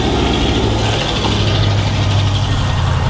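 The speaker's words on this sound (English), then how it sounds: "Like this fellow driving down the street." Loud truck driving down a street, a steady, close, low engine rumble that stays constant throughout with no talk.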